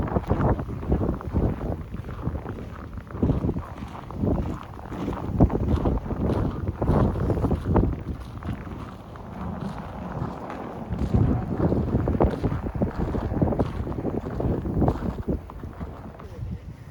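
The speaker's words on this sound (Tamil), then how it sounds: "காற்றும் ரொம்ப ஜாஸ்தியாக இருக்குது" Strong wind roars across the microphone during a heavy snowstorm in Toronto, Ontario, in December, with steady gusting rumble throughout and people talking over it.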